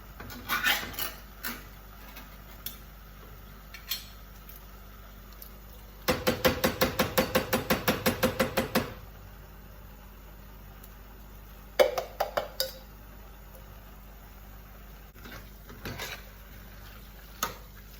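Tinned chopped tomatoes go into a cooking pan for a gluten-free lasagne: scattered kitchen clinks and knocks surround a few seconds of fast, regular tapping and scraping of a can against the pan, then a few more clatters.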